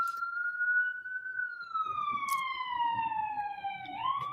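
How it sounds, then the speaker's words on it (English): A police siren wails steadily and slides downward in pitch as it passes, with faint background murmur beneath. "Turn that damn siren off."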